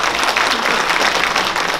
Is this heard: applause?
yes